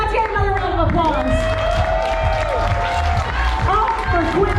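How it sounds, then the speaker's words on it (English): Convention audience at a charity auction breaking into a sustained round of applause, dense clapping with cheers and whoops filling the room, voices mixed in throughout. "Let's get another round of applause"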